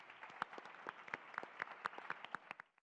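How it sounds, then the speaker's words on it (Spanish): A few scattered, distinct hand claps in a quiet room, about a dozen sharp claps at an uneven rhythm, faint and thin rather than a full audience ovation. "un fuerte aplauso, por favor"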